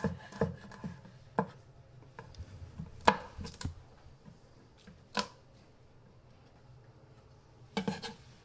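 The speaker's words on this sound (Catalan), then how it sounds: "Piquem l'all ben petit." Sparse knife taps on a cutting board while garlic is finely chopped, soft and close, arriving as isolated knocks and short clusters with quiet gaps between them.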